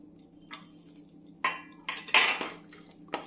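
A spoon stirs cashews and raisins frying in ghee for ghee rice, making a few sharp metallic scrapes and clinks against the pan over a faint quiet sizzle; no talking.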